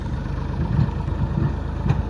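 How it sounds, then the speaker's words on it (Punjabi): A tractor engine runs at a steady low rumble close by while hauling a loaded trolley on a farm, with a slight rhythmic chug and no voices over it. "ਹੁਣ ਚੱਲੇ ਆ ਟਰੈਕਟਰ ਲੈ ਕੇ ਟਰਾਲੀ ਟੋਰ ਲਈ ਆ"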